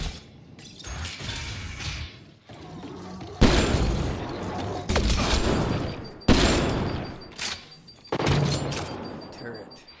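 Turret gunfire in the sci-fi shooter Mass Effect Andromeda: several loud bursts of rapid shooting start abruptly and stop, separated by short lulls, with crashing impacts and clanks mixed in.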